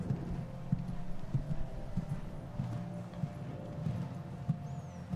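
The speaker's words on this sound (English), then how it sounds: "That's a powerful extended canter. You could even hear each stride." Horse hoofbeats in an extended canter across a quiet dressage arena at a Grand Prix dressage competition in Aachen, a steady rhythmic series of muffled thuds with each stride distinct, moderately near, with faint background noise.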